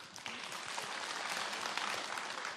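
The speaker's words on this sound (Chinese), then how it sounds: "掌声有请。" Audience applause at a Suzhou pingtan ballad-singing Spring Festival performance, steady clapping from a hall crowd starting abruptly and continuing evenly, fairly soft and distant.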